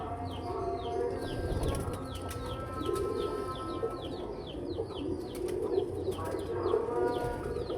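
Pigeons in a loft give low, rolling coos in repeated bouts, with chirps and small rustles over a constant background hum.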